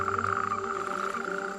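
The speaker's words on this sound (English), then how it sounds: "The males' throats swell and they croak with all their might." Male frogs croak together in a dense nocturnal chorus, a continuous layered drone of overlapping calls that stays loud and steady throughout with no pauses.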